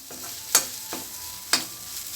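A utensil stirs and scrapes shark puttu in a heavy pan, giving three short rasping strokes over a soft, steady sizzle, close and fairly quiet.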